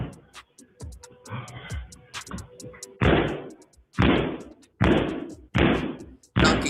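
A door is kicked repeatedly during a break-in at a recording studio: heavy, booming thuds land in a steady series of loud hits, with lighter knocks and voices in between.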